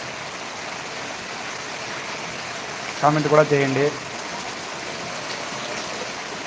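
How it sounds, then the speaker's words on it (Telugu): Heavy rain falling in Dharmavaram, a steady, close hiss of downpour running throughout, with a brief spoken phrase over it midway. "వాన చాలా అంటే చాలా వంక పడుతుంది"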